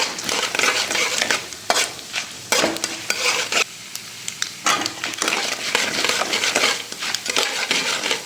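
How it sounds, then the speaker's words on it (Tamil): Chana dal and cashews fry in hot oil in a pan, a busy close sizzle broken by scraping stirring strokes and spoon taps against the metal, with brief quieter gaps between bursts of stirring. "அது பொரியும் போதே பார்த்தீங்கன்னா கடலைப்பருப்பு போடுவோம்"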